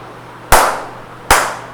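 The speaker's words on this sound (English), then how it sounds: "This is clapping." Two sharp hand claps ring out close and loud, the second following the first after roughly three quarters of a second, over quiet room tone with no talking.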